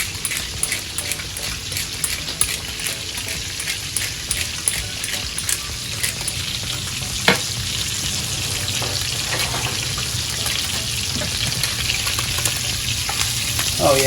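Scallops searing in butter on a grill give a steady, close crackling sizzle with scattered pops that runs unbroken for the whole stretch.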